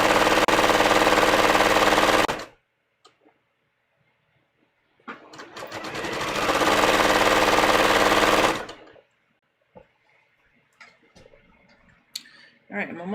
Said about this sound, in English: now I'm sewing it in